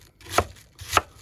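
A knife chopping through the end of a cabbage, two crisp cuts about half a second apart, close and clear with no talking.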